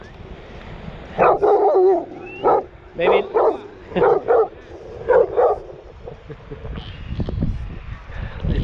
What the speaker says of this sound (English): This dog didn't want to be friends.